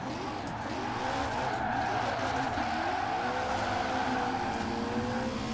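A drift bus tuned to 1,300 horsepower with almost no grip slides in Forza Horizon 4. Its engine drones steadily while tires squeal in long, wavering tones throughout, loud and continuous, with no pauses.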